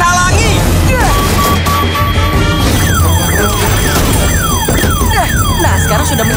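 A car alarm wails in rising and falling electronic sweeps in an animated scene, loud and close, following an opening crash and a few sharp bangs, with voices mixed in.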